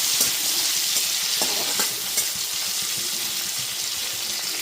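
Chopped tomato being stirred and fried in a pan for arhar dal cooked with asafoetida on low heat, a steady soft sizzle broken by a few scraping stirring strokes, close by and without talk.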